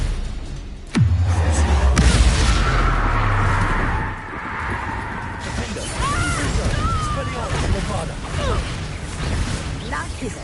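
A Confringo blasting curse explodes in the Hogwarts Legacy video game: a sudden loud blast about a second in, followed by a lingering low rumble and sustained crackling noise with voices in the scene.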